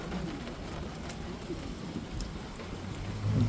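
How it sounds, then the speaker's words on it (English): Rain during a thunderstorm under a severe thunderstorm watch, a soft continuous patter of falling drops that swells slightly toward the end, fairly quiet and heard alone. "You can hear the rain is definitely starting to pick up a bit."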